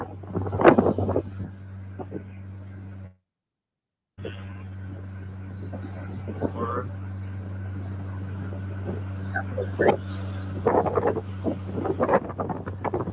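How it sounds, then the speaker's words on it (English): Wind buffets a microphone with a steady low roar and rumble, broken by a brief cut to silence, then gusting on with scattered thumps. "It's too windy."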